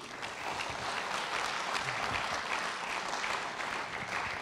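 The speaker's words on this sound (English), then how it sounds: "A big round of applause, please, for Andrew Dalgleish" Applause from a conference audience at the World Arabian Horse Racing Conference in Rome, a dense, steady roar of clapping held at an even level throughout, with no voices over it.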